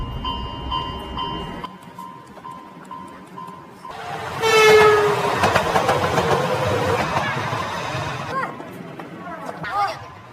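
A train roars past a railway crossing at close range in a film scene, loud and rumbling with bright metallic tones, while a voice narrates over it in Indonesian.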